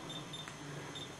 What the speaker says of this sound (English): You should still be able to hear the beep.